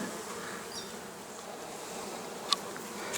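Bee colonies fly around their hives in September, with strong colonies, weak ones and nucleus splits all on the wing. A steady, fairly faint insect hum persists throughout, and one brief louder buzz passes close by.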